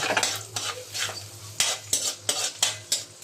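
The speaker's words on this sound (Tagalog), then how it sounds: "Lagyan na natin ang bawang. Kailangan maraming bawang. Halu-haluin lang natin" Plenty of garlic sizzling in hot oil in a pan while a utensil stirs and scrapes it, giving a soft frying hiss broken by repeated clinking scrapes against the metal, close up and without talk.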